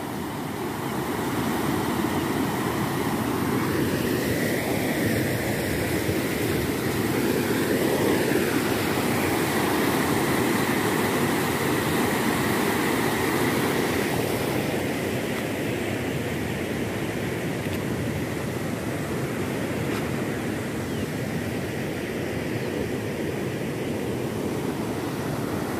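Strong floodwater rushing over a dam in Bahia, Brazil, a loud, steady broadband roar that fills the whole stretch without pause, close and dense, with no voices over it.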